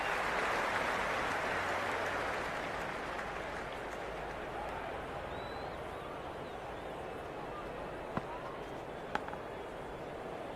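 Stadium crowd in a Cricket 26 India vs South Africa T20I match, a steady broad roar of cheering and applause filling the whole stretch, with a couple of sharp cracks near the end.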